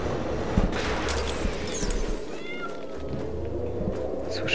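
A cat meows in Lego Marvel Super Heroes 2. The close, drawn-out calls sit over a busy game soundscape with ambient rumble and faint effects.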